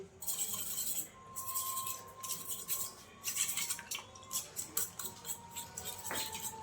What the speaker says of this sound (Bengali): ডিমে নুন দিয়ে গুলিয়ে নেব। ডিম ফেটানো হয়ে গেছে।